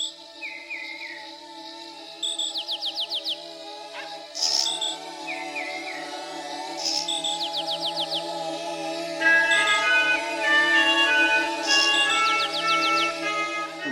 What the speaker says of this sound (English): it kicks off with this wonderful sound of this buzzing of insects